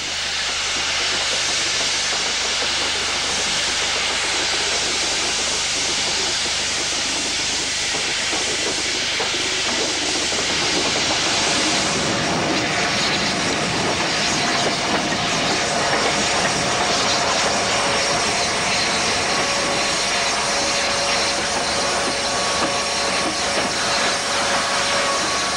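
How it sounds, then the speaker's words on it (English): LNER A3 steam locomotive St Simon moving off the shed in the 1960s fills the air with a loud, continuous hiss of escaping steam that carries through the whole stretch, with a faint whistle-like tone later on. "A3 St Simon moves off Shed in preparation to take over a northbound express"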